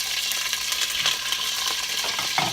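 Meat searing in hot olive oil in a pot gives a steady, close crackling sizzle with small pops and a faint clink near the end.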